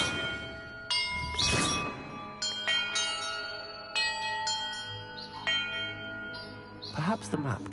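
Church bells ring in a Hogwarts video game puzzle, several distinct bell strikes sounding one after another with long ringing tails that overlap, loud and near, with some voice underneath.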